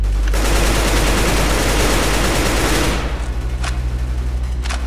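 AK rifle fire in the Roblox game The Stalker, a loud, dense, continuous burst of shots that drops after about three seconds into quieter, rhythmic pulsing with a few sharp cracks.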